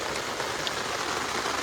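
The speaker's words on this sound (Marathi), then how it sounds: "पाऊस भरपूर आलेला आहे" Heavy rain falls outdoors near a stream where fish are being caught, a steady, even hiss of drops pattering on surfaces, moderately faint and without pauses.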